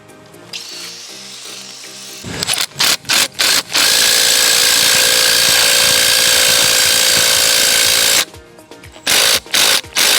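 A power tool enlarges a hole in an exterior wall for a shutter hinge, with a few short whirring bursts, then a long loud continuous run and more brief bursts at the end.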